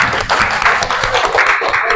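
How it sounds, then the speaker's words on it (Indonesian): A classroom of students claps together, a brief burst of dense, loud applause lasting about two seconds. "Beri tepuk tangan dulu."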